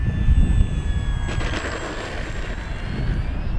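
A Banana Hobby T-28 1100mm 4S radio-control plane on a touch-and-go over a paved runway, its electric motor whine steady and moderately distant, with a rushing swell in the middle as it passes.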